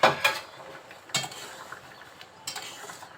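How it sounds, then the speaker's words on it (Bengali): A metal pot lid lifted and set down over boiling raw mangoes, heard as a few sharp clanks and scrapes spaced across a short stretch, fairly close with a quiet background. "2 মিনিট পরে ঢাকনা উঁচু করে দিচ্ছি"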